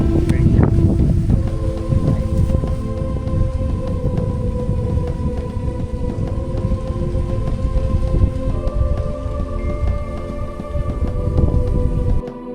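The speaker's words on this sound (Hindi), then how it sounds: "तेज हवा चल रही है।" Strong wind blows steadily at a waterfall viewpoint in Tamhini Ghat near Devkund, a loud continuous rushing roar lasting throughout with sustained tonal whistling layered over it.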